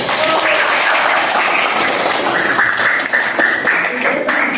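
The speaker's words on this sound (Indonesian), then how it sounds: "Beri tepuk tangan Nazrin" Schoolchildren in a classroom give a loud, continuous round of clapping for a classmate, with voices mixed in throughout.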